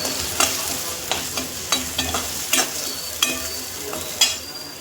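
Spoon scraping and stirring in a pan as masala is mixed into frying samosa filling, with sharp clacks roughly twice a second over a steady close sizzle and no talking.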